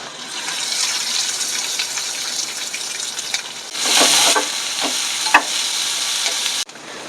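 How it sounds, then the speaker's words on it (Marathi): Ginger, garlic, green chilli and curry leaves sautéing in a pan, a steady close sizzle with stirring scrapes and a louder burst of frying around the middle, with no talking. "आलं लसूण थोडंसं परतून घेऊया"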